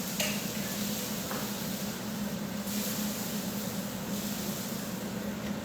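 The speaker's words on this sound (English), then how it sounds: "can you hear the searing of everything?" Steak searing in a hot pan at a home carne asada cook, giving a steady, fairly loud broadband sizzle that runs throughout without speech.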